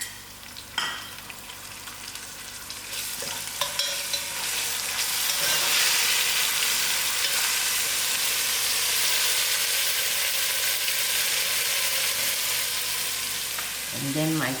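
Ginger and garlic frying in a pot for a sugar beans curry, giving a steady, loud sizzle that fills the whole stretch, with a few brief stirring clatters near the start and a faint voice at the end.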